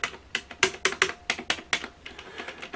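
Hard, solidly built keys on an Olympia mechanical adding machine are pressed in a quick run of about a dozen crisp clacks, close up and fairly quiet, with no talking.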